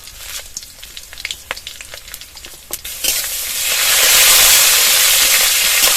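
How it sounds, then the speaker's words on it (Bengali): Dried red chillies, green chillies, whole cumin, coriander seeds and peppercorns going into hot mustard oil in a wok: a few sharp stirring clinks, then a sudden loud hissing sizzle that swells and holds. "এখানে নিয়েছি শুকনো লঙ্কা, কাঁচা লঙ্কা, গোটা জিরে, গোটা ধনে আর গোলমরিচ দিয়ে দেবো"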